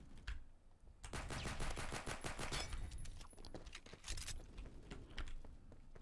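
Rapid bursts of Zip-22 gunfire in the Roblox shooter Phantom Forces crack sharply and repeatedly at close range, coming as several clustered volleys with brief pauses between them.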